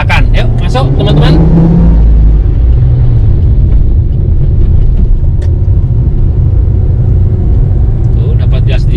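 Car accelerating on a rough, potholed road between Tanah Grogot and Balikpapan to pass a truck, with steady loud engine and road rumble throughout and someone speaking over it at the start and briefly near the end.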